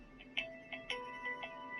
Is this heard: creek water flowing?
no